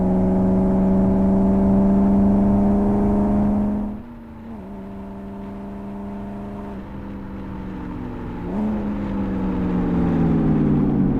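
A modded racing car in the game Live for Speed, revving only to about 3,500 RPM, drones at high revs, drops sharply as gears shift, then climbs again in a steady whine, loud and close.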